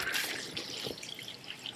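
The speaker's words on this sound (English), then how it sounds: "So we'll just fill that with water" Water running and trickling into a container while cleaning a basement, a soft, steady splashing flow with small drips, fairly quiet and close, with no talking.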